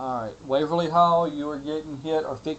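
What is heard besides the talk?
No distinct noise like a dog, phone or traffic.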